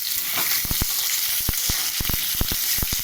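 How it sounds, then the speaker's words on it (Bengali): Potatoes fry and crackle in hot oil with cumin seeds in a home kitchen, a steady close sizzle under a run of sharp pops and spits, alone with no talk. "এরপর আমি আলু লাল করে ভাজবো।"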